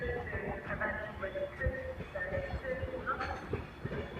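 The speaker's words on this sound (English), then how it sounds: "the next intro is going to be the 12:28 Avanti West Coast service from Manchester Piccadilly to London Euston" An Avanti West Coast service from Manchester Piccadilly to London Euston pulls into Crewe station on the West Coast Main Line, a steady rolling rumble with faint wheel clicks and some background voices.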